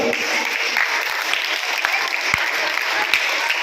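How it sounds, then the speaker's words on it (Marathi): An audience at a practice quiz for a school talent search exam applauds all the participants, a dense, even round of clapping that holds steady from start to finish. "एकदा टाळ्या वाजवा सर्वांसाठी"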